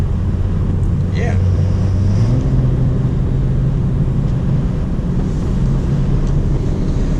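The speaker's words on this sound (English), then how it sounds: "This is like sport, and you hear the exhaust." A 2018 BMW 340i xDrive M-Sport in sport plus mode sends a steady, loud exhaust drone from inside the cabin, its low tone rising in pitch partway through under constant road and wind rumble.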